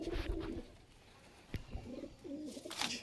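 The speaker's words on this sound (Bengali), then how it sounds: "এই পায়রাগুলো দেখো" Pigeons in a loft, soft low cooing calls repeating faintly at close range, with a sharp tap and some rustling between them.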